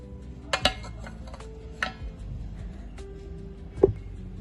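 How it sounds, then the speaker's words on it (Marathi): Two cooking pots and a plate are set inside a pressure cooker holding water and a ring, making a few sparse, sharp metallic clinks and knocks spaced out over a quiet background. "आपण दोन्ही भांडे इथे कुकरमध्ये ठेवून घेतलेले आहे"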